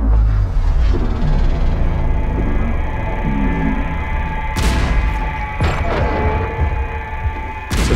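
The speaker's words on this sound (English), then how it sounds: "now you hear some of those gunshots, and they're pitched down, and we've also put some reverb on them" Pitched-down gunshot effects with heavy reverb boom and rumble through a low mechanical bed, with a couple of sharp, loud blasts near the middle and end.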